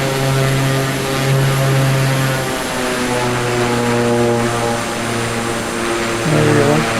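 Steady, loud drone of a propeller aircraft engine in flight, a constant buzzing hum with a slight shift in tone midway as the prop pitch is set, no voices.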